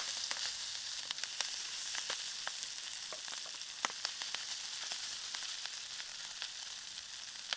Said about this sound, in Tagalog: Pakinggan ang sizzle, ibig sabihin handa na yan ihain habang mainit at juicy pa.